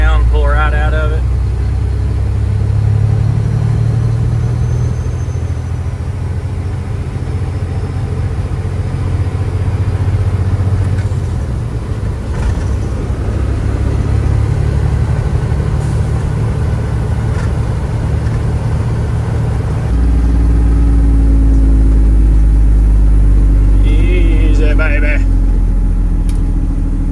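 A Detroit Diesel Series 60 engine in a Freightliner FLD truck lugs down under load, a loud, deep, steady diesel drone heard close up, with a rise in low rumble partway through as it pulls out.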